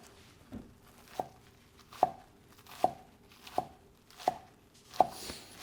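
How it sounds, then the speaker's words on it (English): Knife chopping scallions on a cutting board for ginger scallion oil: crisp, evenly spaced thocks, about eight in a steady rhythm, close and clear with nothing else heard. "I love the sound of the knife on the board."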